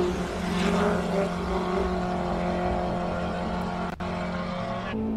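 Hillclimb race car at King of the Hill, Simola, with its engine sounding like it is missing gears: a loud, sustained droning roar holding a steady pitch, with a brief dip near the end.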